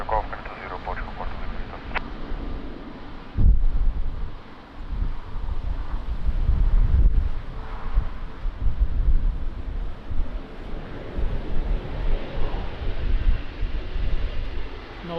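Strong crosswind buffets a microphone at Lisbon Airport, a rough, rumbling roar with low gusty surges and sharp bursts around the middle, while radio-style voices speak over it throughout.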